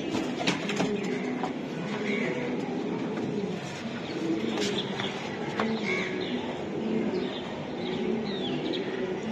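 BRPFC club racing pigeons coo in a loft, a continuous low murmur of overlapping calls with faint background clatter and occasional sharp ticks, no talking.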